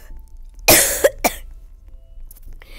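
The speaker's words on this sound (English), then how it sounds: "My coughing is annoying." A person coughs close by: one harsh, loud burst followed by two shorter coughs in quick succession, then quiet room noise.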